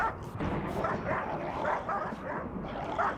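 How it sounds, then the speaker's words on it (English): Dogs bark repeatedly in Rimworld, a busy cluster of overlapping yips and woofs at steady loudness with no talking. "Ah, the soothing sounds of dog barking."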